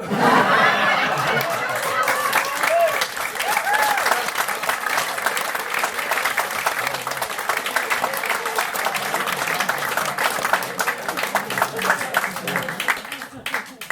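A live hip hop comedy show audience claps and laughs steadily for well over ten seconds, a dense crackle of applause with bursts of chatter and snickers mixed in.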